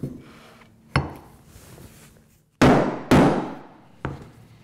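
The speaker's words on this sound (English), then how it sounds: "we're going to take a chisel and clean that out" Sharp woodworking strikes as a chisel cleans out excess wood at the top of a tenon for a shop stool, four or five close knocks with ringing decays and short pauses between.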